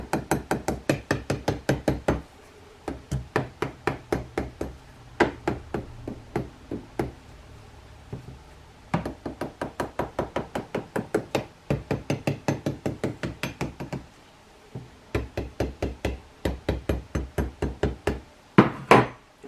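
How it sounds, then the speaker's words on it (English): Gentle taps on a 3D ice cream cone mold to release suction, sounding as a long series of quick, crisp knocks in short rhythmic bursts with brief pauses, close and fairly loud, no talking. "we want to give some more gentle taps to release any suction that was created"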